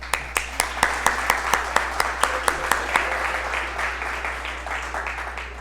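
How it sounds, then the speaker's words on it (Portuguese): Audience applause at an ESG conference session, starting as distinct, evenly spaced claps and thickening into a steady, moderately loud patter that fades slightly toward the end, with a low steady hum underneath. "Uma salva de palmas"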